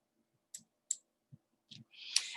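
Several sharp mouse clicks, spaced irregularly and close up, as a dialog's OK button is pressed while configuring NetBeans for a JavaFX project; a brief rustle follows at the end.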